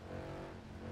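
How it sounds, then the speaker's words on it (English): Steady engine drone from a Mercedes SLS AMG cruising in first-person view in the racing game Forza Horizon 4, a muted, continuous low rumble at constant volume with no talk over it. "It's so quiet, first person in this SLS."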